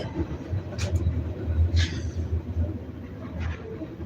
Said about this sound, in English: Yep, a train rolled by.